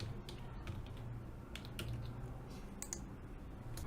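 Keys on a computer keyboard are tapped in quick, irregular clicks over a low steady hum, typing code in a Python Qt program, close and fairly quiet with no voice.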